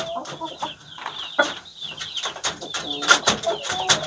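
An ekor lidi hen whose tail is still growing clucks in quick repeated calls, near and clear, with other birds cooing and chattering around it.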